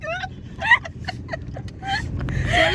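A car being driven gives a steady low road rumble from inside the cabin, running beneath a woman's chatty speech throughout.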